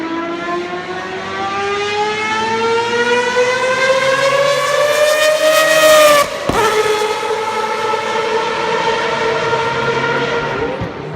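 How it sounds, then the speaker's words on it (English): A Mazda 787B race car's loud four-rotor turbocharged rotary engine screams past, its whining pitch rising steadily for several seconds and then dropping sharply as it goes by, continuing at a lower roar. "I think it was a 4-rotor turbocharged engine, and it created an immense noise"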